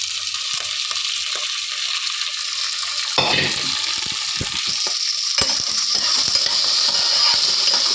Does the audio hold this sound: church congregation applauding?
no